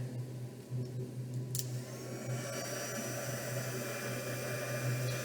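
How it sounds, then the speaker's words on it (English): An embossing heat gun heats embossing powder, giving a steady, moderate blower whir with a low hum underneath that runs continuously without pause. "I'm going to use my embossing gun to heat it."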